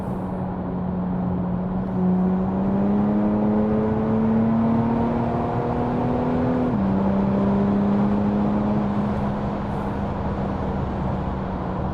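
Audi A5 3.0 TDI diesel engine revving in manual mode, its tone climbing steadily to the hard-cut rev limiter before dropping sharply, then holding a steady drone; loud and continuous with no talk.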